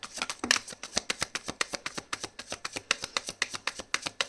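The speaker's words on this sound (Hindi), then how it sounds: "लास्ट शफल है।" Tarot cards are shuffled close up in a quick, even run of crisp riffling slaps that repeats steadily for several seconds with no talking.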